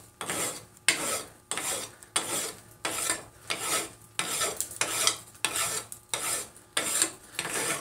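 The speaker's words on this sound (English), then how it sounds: "when you're doing this vise type work, doing hot rasping, or even regular file work" Hot metal held in a vise being rasped, with about a dozen rhythmic rough scraping strokes, each a swelling burst of gritty noise, close and fairly loud with no talk.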